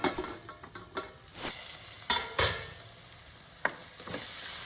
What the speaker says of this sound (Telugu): వీటిని హై ఫ్లేమ్లో మూత పెట్టి 2 నిమిషాలు వేయించుకుందాం.